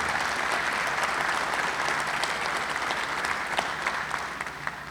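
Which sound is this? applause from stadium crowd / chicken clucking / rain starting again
applause from stadium crowd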